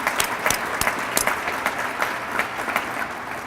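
An audience at a city address for Centennial applauds its sheriff's officers, a steady wash of many clapping hands with sharp individual claps standing out, moderately loud and unbroken by speech.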